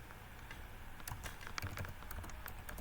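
A message being typed on a computer keyboard: a fast, irregular run of close, crisp key clicks that gets busier after the first second, over a faint steady room hum.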